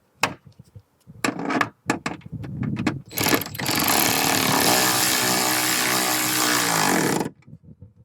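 A power tool runs steadily for about four seconds, tightening hood strut bolts while fitting a Rough Country hydraulic hood strut, preceded by short clanks and handling noises and followed by brief clicks.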